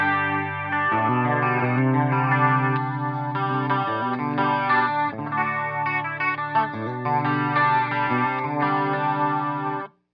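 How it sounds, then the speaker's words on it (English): Electric guitar through a Line 6 Helix Trinity Chorus in stereo, with the amp's own preamp: a chorused, lightly driven riff of chords and melody plays steadily and loudly, then cuts off. "let's do Trinity Chorus"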